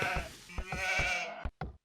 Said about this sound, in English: holy moly, that's a lot of sheep